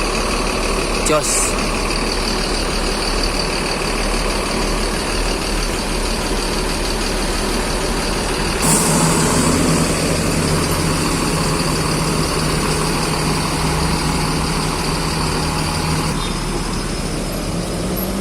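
Deep, steady engine idle from a bus, rumbling continuously close by with a faint hum, a brief clunk midway and occasional low chatter over it.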